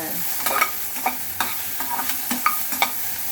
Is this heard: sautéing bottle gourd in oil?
yes